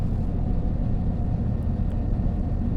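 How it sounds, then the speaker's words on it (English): Running sounds of a Cross Country class 170 diesel multiple unit in Train Sim World, a dense continuous low rumble and drone, loud and unbroken throughout with no talk. "Here come those awful running sounds."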